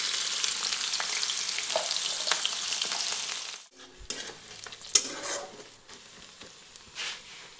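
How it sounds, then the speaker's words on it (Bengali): Chopped onion hits hot mustard oil in a kadai, a loud, dense sizzle for several seconds, then drops to a quieter crackle with scattered spoon scrapes and clinks as the pieces are stirred. "তেলটি গরম হয়ে যাওয়ার পর দিয়ে দিচ্ছি পেঁয়াজ কুচি,"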